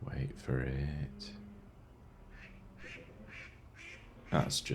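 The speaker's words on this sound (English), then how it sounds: "That's just a duck." A duck quacks in several short bursts, moderately close, used as a raw animal recording for a song, with a voice speaking briefly at the start and end.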